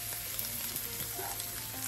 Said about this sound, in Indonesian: Nah, ini kita goreng sampai agak kecoklatan, agak mateng biar asinnya tuh kerasa.